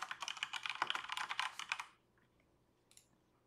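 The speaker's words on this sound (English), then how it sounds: "I can double-click it to start typing" Rapid typing on a computer keyboard, close and crisp, a dense run of key clicks for about two seconds that stops, followed by near silence with one faint later click.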